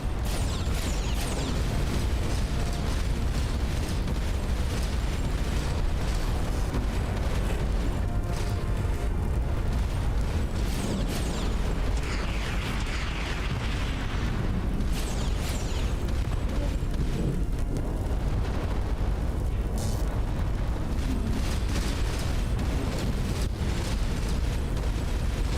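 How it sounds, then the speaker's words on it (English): Missile explosions in the space game Starcom: Unknown Space rumble as a dense, continuous wash of booms and bursts over 25 seconds, with low-end roar throughout and occasional sharper blasts, no voices. "Incoming missiles."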